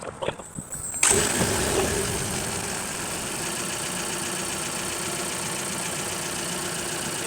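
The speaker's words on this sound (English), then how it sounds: "Next thing we'll do is crank the car up, get the water pump to flowing" A car engine cranks and catches after a second of quiet, then settles into a steady, fairly loud idle with the water pump circulating coolant during a coolant change, running alone to the end.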